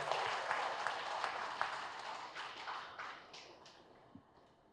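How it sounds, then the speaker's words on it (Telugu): An audience at a gathering in Manasa Sarovar, Vijayawada, breaks into applause, a dense rattle of many clapping hands that stays loud for a few seconds and then thins out and fades. "గట్టిగా చప్పట్లు కొడదాం అందరికీ."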